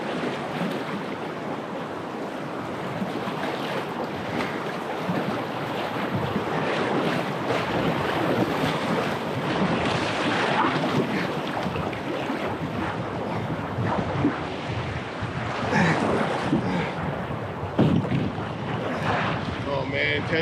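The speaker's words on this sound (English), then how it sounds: "We are jumping right into a rapid" A canoe runs a boulder-strewn river rapid in the Arctic barren grounds while strong wind blows the boat sideways, giving a constant loud wash of rushing water and roaring wind noise across the microphone throughout.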